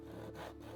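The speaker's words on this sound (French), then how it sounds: "Je découpe à la scie les deux bouts de l'axe." A hand saw rasps through a wooden dowel in quick back-and-forth strokes, close and fairly quiet, with a short pause between pushes.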